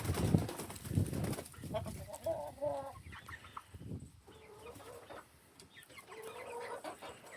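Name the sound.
chickens clucking as they leave the coop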